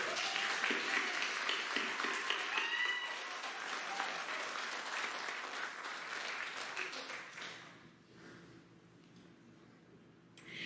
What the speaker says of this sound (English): Let's give them another hand of applause.